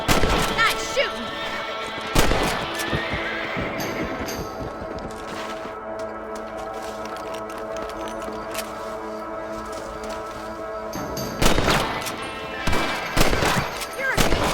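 Sharp rifle shots ring out in Red Dead Redemption as John Marston hunts rabbits, a couple of loud cracks early and a quick cluster near the end over quiet ambient game sound, with spoken voices between.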